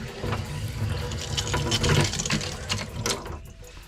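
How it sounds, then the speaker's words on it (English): Faucets in a Jayco 224 BH camper running on city water hookup, a steady rushing, splashing flow into a sink with a low rumble, close and continuous before tapering off. "We ran the faucets, they're working."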